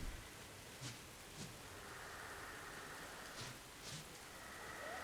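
Rain in the video game Don't Starve Hamlet: a faint, steady patter of rainfall continues throughout, with a few soft low thumps rising briefly above it.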